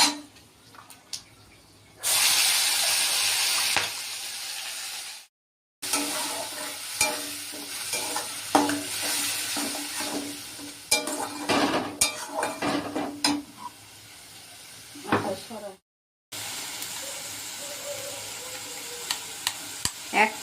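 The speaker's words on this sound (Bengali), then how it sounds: "এই বাটা মশলাটা ওর মধ্যে দিয়ে দিচ্ছি। একটু নাড়িয়ে নিচ্ছি।" Ground spice paste frying into a jackfruit and chickpea curry with bay leaf and whole garam masala. A loud hiss and sizzle comes with spatula scrapes and occasional utensil clinks, and the sound cuts out briefly twice.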